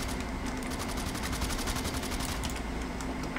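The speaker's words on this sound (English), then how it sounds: "It's an assault rifle." Rapid assault rifle fire in the shooter game Blacklight Tango Down, a fast even rattle of shots running continuously at moderate level with no voices.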